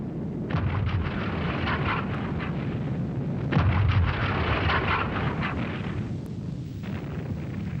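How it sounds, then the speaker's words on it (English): US artillery shelling the town of Duren in WWII, heard as a sustained roar of heavy rumbling bursts with sharper blasts at intervals, loud and continuous with no voices. "US artillery had been relentlessly shelling the town of Duren for days."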